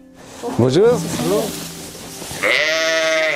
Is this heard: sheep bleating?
yes